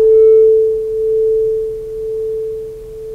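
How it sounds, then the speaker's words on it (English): Two pure tones, very close in pitch, sound together and produce beats: one steady hum whose loudness swells and fades about once per second, with no voices. "What you're listening for is kind of a modulation in the volume of the sound."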